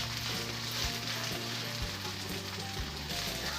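A cheese potato dosa fries on a pan with a dense, steady sizzle heard up close, continuous throughout with no one speaking.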